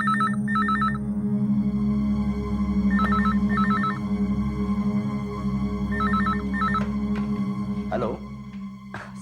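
A telephone rings in repeated double trills over a steady low hum, three ring cycles in all, followed by a couple of clacks.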